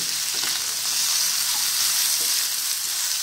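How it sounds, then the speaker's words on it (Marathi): Ridge gourd frying in a small amount of oil in a pan, giving a continuous, even sizzle with a faint crackle throughout. "तर असा आपण दोडका थोडं पण चांगल्या प्रकारे भाजून तुम्ही बघू शकता दोडका चांगला भाजलेला आहे"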